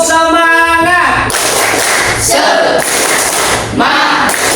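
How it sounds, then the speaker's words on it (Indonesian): A classroom group does the tepuk semangat clapping chant, loud rhythmic bursts of claps in short patterned groups with voices calling along, after a brief sung or spoken tone at the start. "tepuk semangat, semangat, semangat ya"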